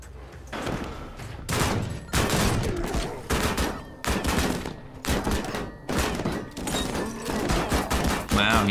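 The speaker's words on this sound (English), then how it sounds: "And we're getting sniped at the same time." Sniper fire in the video game MADNESS: Project Nexus, a series of loud booming gunshot bursts in irregular rhythm, each dense blast followed by brief lulls.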